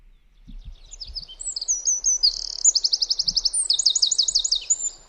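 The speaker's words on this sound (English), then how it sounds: "this is what this bird sounds like" A single garden bird sings up close, a quick run of high chirps rolling into rapid, repeated trilled notes, clear against a quiet background.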